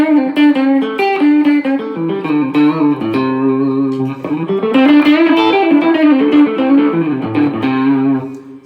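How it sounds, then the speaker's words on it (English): A Telecaster electric guitar plays clean through an amp with reverb, ringing out a continuous, loud melodic phrase of bright, sustained notes and chords with no voices. "So here's my clean sound, just through the amp with the reverb."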